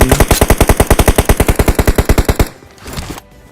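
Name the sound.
M416 rifle gunfire in a video game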